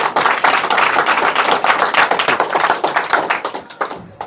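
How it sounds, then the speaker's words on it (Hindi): Loud, close clapping from a group, sharp rapid claps dense throughout and tapering off at the end, given for a schoolgirl who scored 99% in English. "इसके लिए भी जोरदार ताली बजाइए इस बिटिया को"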